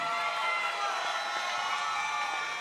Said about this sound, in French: Applaudissements pour Angélique Angarny-Philopon.